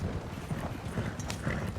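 Horse hooves clip-clop in a video game, a steady, moderately close trotting rhythm with evenly spaced hoof strikes and no talking over them.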